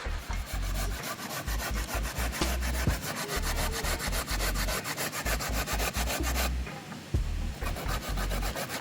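Sweet potato is grated by hand for dumplings by a riverside, a rhythmic rapid rasping of strokes repeating steadily and loudly up close, with a brief pause near the end and no talk.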